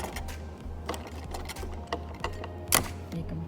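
A sewing machine stitching piping on a kurta: a steady, close mechanical whir with rapid rhythmic needle thumping and short clicks, running in bursts with brief pauses.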